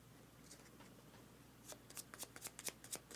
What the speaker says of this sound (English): So let's shuffle them up.